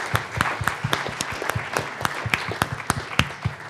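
A small audience claps at a business class event, a brief round of scattered, uneven claps close by, loud and alone without talk.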